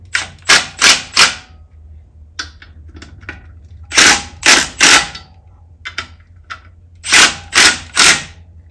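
Bolts on a Kennedy adapter plate fitting a Subaru engine to a VW transaxle are driven in with a cheap socket on a power tool, giving loud rapid rattling bursts in clusters of three, separated by quieter clicks and handling noise.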